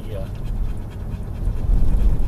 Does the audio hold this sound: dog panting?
yes